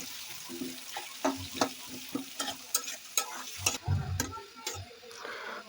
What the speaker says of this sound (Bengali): বেরেস্তা করার জন্য আমরা কিছু পেঁয়াজ এখানে লাল লাল করে ভেজে নিতে হবে